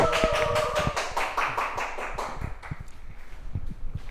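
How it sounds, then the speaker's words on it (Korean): An audience at a Catholic faith lecture claps to welcome a speaker, a burst of fairly close applause that thins out into scattered claps. "안성준 안토니오 형제님을 박수로 모시겠습니다."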